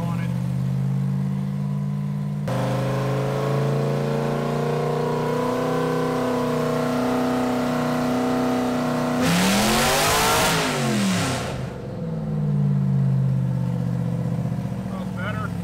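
A cammed 4.8L LS burnout truck on a Holley Terminator X, running on a hub dyno, drones loudly at steady high revs, then surges into a sharp rising rev before dropping back to a steady drone.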